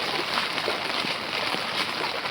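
Floodwater rushes over a stadium road turned into a river during heavy monsoon rain, heard as a steady, dense broadband wash that stays loud and unbroken throughout.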